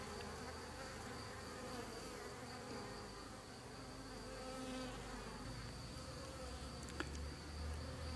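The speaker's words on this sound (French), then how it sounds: "on peut voir que les abeilles ont pris une activité normale." A dense, steady buzzing of many honeybees at a hive after capturing a small swarm fills the air, loud and continuous throughout, with no voices.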